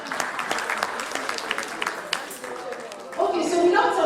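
Audience applause at an association's annual general meeting, a steady wash of clapping running under talk and cheering, swelling louder near the end.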